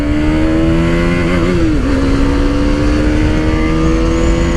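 KTM Duke 250 BS6 motorcycle accelerating hard through the gears, a loud close engine whine rising in pitch, dipping briefly at a gear change, then climbing again under heavy wind rush.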